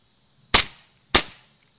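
A KWA M1911 airsoft pistol fires two sharp, loud cracks about half a second apart, each decaying quickly, close by with no talk.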